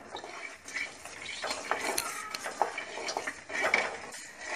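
Garlic cloves with fenugreek seeds are stirred in a pan for garlic pickle, a spoon clinking and scraping against metal in irregular strokes, fairly quiet and close with no talk.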